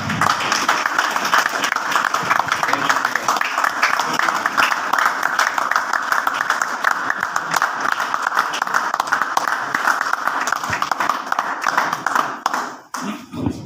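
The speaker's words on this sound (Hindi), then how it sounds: "आपकी भरपूर तालियों में अकबर इस्लाम साहब" An audience at the Arts Council in Larkana applauds steadily for several seconds as an actor is welcomed, a dense wash of clapping that tapers off abruptly near the end.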